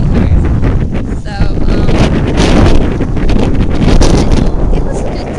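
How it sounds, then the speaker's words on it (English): Wind blows on a beach by a pier, a loud blustery roar buffeting the microphone and swelling and easing in gusts over a few seconds, with no clear voices above it. "You probably can't hear me because of the wind."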